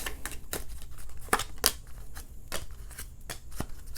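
Tarot-style tea leaf cards are shuffled by hand in a continuous flurry of papery riffles and snaps, with several sharper card slaps standing out, close and alone.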